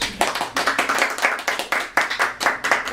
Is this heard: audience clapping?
yes